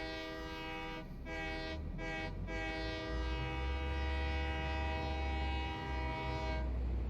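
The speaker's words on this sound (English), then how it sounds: "Best horn in the game, right there, the train." A train horn in a video game blares loud and sustained, with short dips early on, over a steady low rumble of rolling rail cars, then cuts off near the end.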